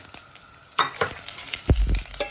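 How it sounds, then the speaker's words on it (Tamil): Mustard seeds, fennel seeds and dried red chillies crackle and sizzle in hot oil, with a few sharp pops and stirring scrapes, close up and with no voices. "எண்ணெய் சூடானதும் நாங்கள் ஒரு கால் டீஸ்பூன் கடுகு சேர்த்துக்கிறேன்"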